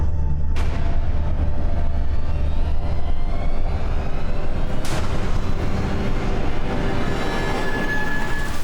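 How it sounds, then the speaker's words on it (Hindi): Two sharp, loud gunshots crack out several seconds apart over a constant low rumble, each leaving a brief ringing echo. "सर, उस तरफ से गोली चली थी।"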